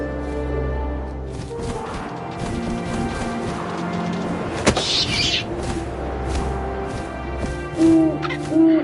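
Owl hooting in the video game What Remains of Edith Finch, a low tonal call over a windy ambient game soundscape, with a sharp impact midway and further hoots near the end.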